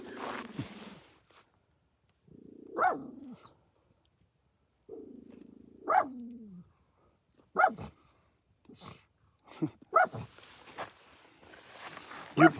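A dog barks at another dog outdoors near a spot where someone gathers firewood, a handful of sharp barks spaced across the stretch with growly, whiny sounds between them.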